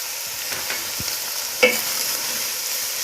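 Mutton keema fries with salt, red chili powder, turmeric and chopped green chilies stirred in, giving a steady close sizzle with a couple of spoon scrapes and one sharp tap, and no talk.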